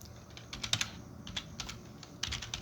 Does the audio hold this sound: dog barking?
no